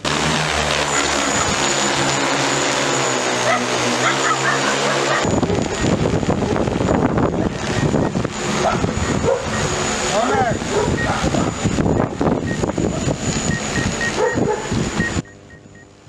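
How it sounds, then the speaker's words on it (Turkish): A disinfectant-spraying drone over municipal streets and parks in Karacasu gives a steady, loud rotor whine and buzz throughout. A voice talks over it, and the sound drops away near the end. "drone ile dezenfeksiyon çalışmalarına da başladı"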